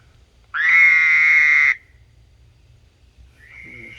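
A frog gives a loud, sustained whistling call at night lasting over a second, followed by silence and then a fainter, shorter call starting up.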